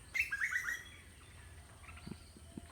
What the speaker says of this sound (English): I hope you can hear the voice of birds